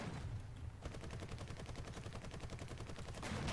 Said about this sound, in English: Maybe we just try shooting L3s as we drive toward them.